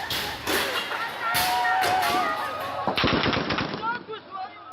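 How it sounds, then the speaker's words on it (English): Army gunfire aimed at refugees in Libya crackles in rapid bursts of shots, loud and close, mixed with shouting voices and a chaotic crowd. "The army began to shoot us."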